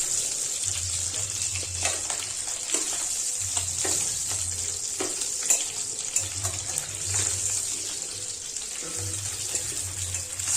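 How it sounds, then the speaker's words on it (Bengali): Prawns fry in a pan for bhindi chorchori, a continuous close sizzle with repeated scrapes and clatters as they are turned, plus low hissing bursts from the stove throughout. "2-4 বার উল্টে পাল্টে ভেজে নিলে চিংড়ি মাছ থেকে একটা ফ্লেভার বেরিয়ে এলে মাছগুলোকে তুলে নেব"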